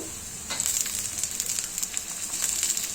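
Capsicum tipped into a pan where carrots are already frying, for chili chicken, giving a steady bright sizzle that rises sharply and holds close and loud throughout with no voices.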